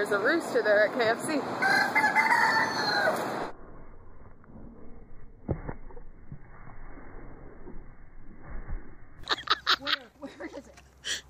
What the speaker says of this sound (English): there's a rooster there at KFC.